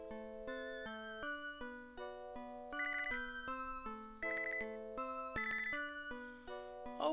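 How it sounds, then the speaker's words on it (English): A bell at the Shrine of Honesty in Ultima 7 plays a clear melodic chime sequence of ringing tones, steady and moderately loud, with a few brighter, louder strikes along the way. "that's a pretty bell"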